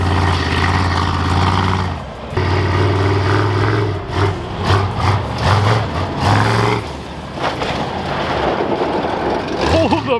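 Engine of a NASCAR-inspired Ford F100 truck revving and pulling away to hit a jump, loud and close with shifting rough tones, rising and dropping in bursts, people talking over it.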